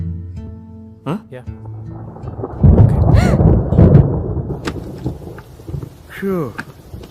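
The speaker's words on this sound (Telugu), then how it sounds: "ఈ హైదరాబాద్లో వర్షం వచ్చిందంటే" Rain and thunder in Hyderabad in a Telugu film scene: a steady wash of rainfall with a louder rumbling swell partway through, heard beneath people talking.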